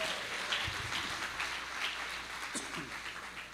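A church congregation applauds in a steady rolling patter of many hands, moderately distant and even, with a voice faintly under it.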